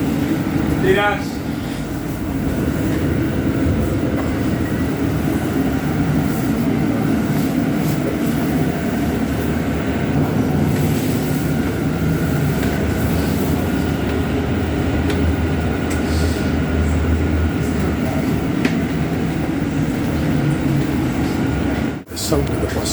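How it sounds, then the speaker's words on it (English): An electric bus with hub motors drives through Perth, Scotland, its steady low drivetrain hum and road rumble continuous throughout, with faint cabin ventilation and a brief clunk near the end. "The sound of the bus. The bus sounds the same as the Dundee ones."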